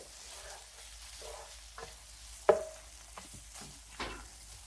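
Browned Jimmy Dean sausage and a hunk of butter sizzle softly in a pan, with light scraping and stirring clinks and one sharp metallic tap of a utensil against the pan.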